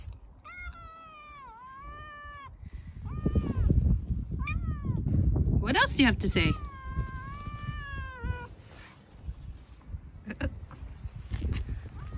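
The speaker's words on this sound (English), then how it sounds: "It's chatty catty day." Several cats meow close by in a run of drawn-out, rising and falling calls with a couple of sharper yowls, while a person speaks briefly between them.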